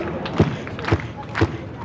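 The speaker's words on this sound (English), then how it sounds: "can I get everyone clapping their hands kind of like this?" A crowd at an outdoor community music event claps in a steady, slow rhythm, about one beat every half second, the hand claps thumping out over a busy background of murmuring voices.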